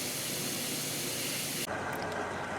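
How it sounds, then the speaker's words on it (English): A cheap steamer serving as the steam source for a wood steam-bending box gives a loud, continuous hiss that drops abruptly partway through, leaving a softer steady rush. "this will be the steam source for my wood box"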